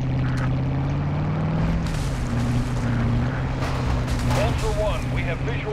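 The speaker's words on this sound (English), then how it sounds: "Oh, it's a copter right there." A helicopter in the video game Call of Duty Modern Warfare drones with a steady low rotor hum and engine whine, layered with game effects and bursts of noise while players talk.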